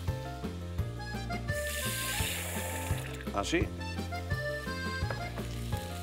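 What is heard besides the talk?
water poured into pan with mashed garlic and parsley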